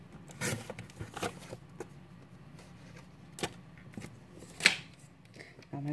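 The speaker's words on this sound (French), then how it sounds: "Et cette fois-ci, je coupe." Paper is cut for a tropical scrapbook album belt in a few short, sparse snips and rustles, faint and close with quiet gaps between them.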